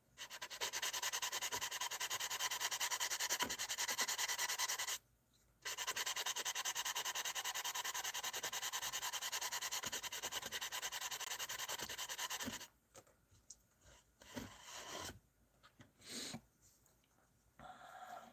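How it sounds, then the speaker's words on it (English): A sanding sponge rubs inside a plastic scale model, giving a close, continuous scratchy scrubbing that breaks off briefly once, then stops into sparse rustles and handling noises. "It's really hard to get in there with like a sanding sponge."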